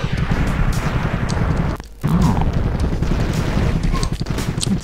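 Missiles launched from a helicopter in the Soviet Strike video game: rapid repeated firing and explosive booms, loud and continuous, briefly dropping out before resuming, with a voice speaking over it.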